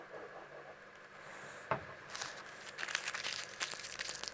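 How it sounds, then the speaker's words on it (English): White paper is crumpled by hand, close and faint, with crisp crinkling and rustling that builds into a busier stretch of crackles. "Crumple it up"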